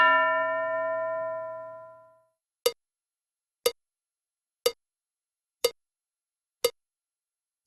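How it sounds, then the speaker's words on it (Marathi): A single bell strike rings out with a long, bright tone that fades over about two seconds. It is followed by five evenly spaced sharp ticks, one each second, in an otherwise silent room. "घंटा वाजल्यावर"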